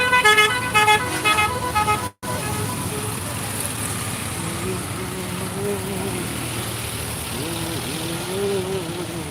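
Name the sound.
road traffic jam with car horns near Lamakazi bridge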